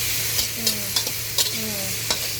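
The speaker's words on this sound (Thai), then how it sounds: "ผัดกระเทียมให้หอมก่อน" Garlic stir-fried in a pan while cooking ridge gourd with egg: a steady sizzle with several sharp spatula scrapes and taps spaced through it, close and fairly loud, with no talking.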